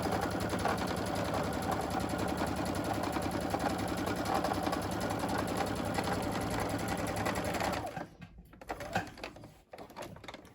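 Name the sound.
sewing machine stitching fabric for a face mask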